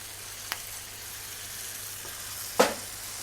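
Tomato paste sizzles faintly and steadily in a pan, a soft continuous hiss broken by two small pops.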